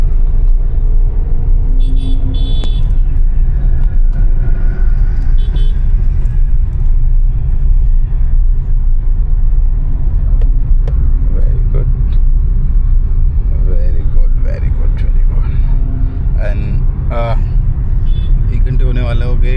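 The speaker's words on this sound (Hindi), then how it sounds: "अच्छे तरीके से गाड़ी निकाली सोनी ने।" A car drives on a road during a driving lesson, with a steady loud engine and road rumble throughout and people talking over it.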